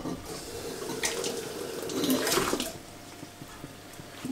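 Tap water runs steadily into a measuring jug in a home kitchen while a stock cube broth is being prepared, a continuous close rush that swells briefly midway before easing, with no talking.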